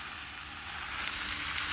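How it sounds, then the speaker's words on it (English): Sausages sizzle and fry for lunch on a family trip to Fraser Island, a steady close hiss that swells a little louder toward the end, with no voices. "Mum and Dad we're sizzling lunch"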